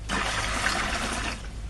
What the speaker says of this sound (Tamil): இப்படி தான் எங்கள் ஊரில் தெரு பைப்பில் தண்ணி வரும்